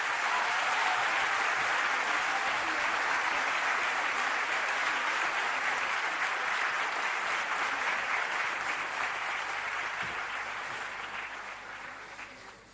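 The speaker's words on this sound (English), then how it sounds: "A big round of applause, please." Sustained applause from a large audience at a college event in Mumbai honouring Dr APJ Abdul Kalam, a dense even wash of clapping that holds steady and then slowly tapers off near the end.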